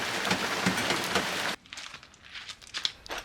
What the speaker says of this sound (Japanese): 雨が本格的に降り出したところで、出しっぱなしだった工具を慌てて片付ける。